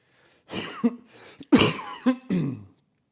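Several rough, wet coughs in quick bursts, close up, with throaty clearing between them and short pauses separating the fits.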